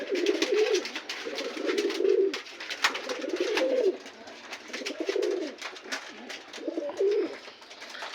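Pigeons coo in repeated, rhythmic low phrases on a rooftop pigeon farm, several birds close by with faint rustling and wing sounds between calls.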